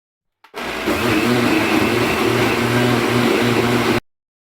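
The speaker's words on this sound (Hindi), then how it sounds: "दोनों को मिक्स करके एक दफ़ा अच्छे से मशीन को चला लें" A kitchen blender whirs steadily as it purées tamarind and plum pulp for a sweet sherbet, starting abruptly and running loud and even for about three and a half seconds before cutting off.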